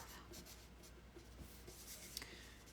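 A pen signing an autograph, with faint, steady scratching strokes up close in a quiet room, with no voices over it.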